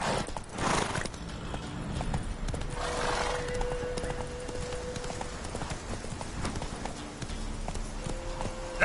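Hooves of a horse in The Witcher 3 game clip-clop in a steady galloping rhythm throughout, with a brief whinny near the start and sustained tonal music or ambience underneath; no speech.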